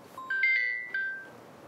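A mobile phone ringtone plays a short, clear electronic melody of a few sustained tones, close and alone, with no speech.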